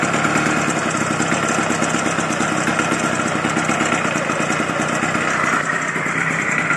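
Small engine on a motorized bicycle idling steadily with a slight rise in revs, loud, close and buzzing continuously throughout.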